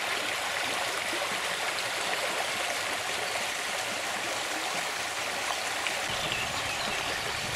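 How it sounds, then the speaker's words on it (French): A small river babbles past a little mill in a quiet rural spot, a steady, close, even rush of flowing water with no voices. "Cette rivière nous glougloute très agréablement aux oreilles."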